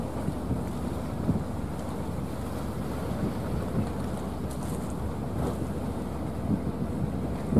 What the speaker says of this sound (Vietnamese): Đây là ghe cào Bentley rất là khủng luôn.